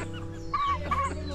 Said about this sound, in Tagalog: Para may manok din po tayo. Yan oh. Mga native, masarap po ito.